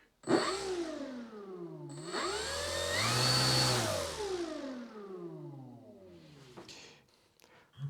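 Electric motor of a Volantex TrainStar Ascent 1400mm RC plane on a 3-cell battery, spinning up to a loud, close, steady whine, holding it, then winding down before a brief final burst.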